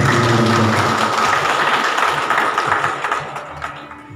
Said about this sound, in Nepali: एकचोटि जोरदार ताली बजाउनु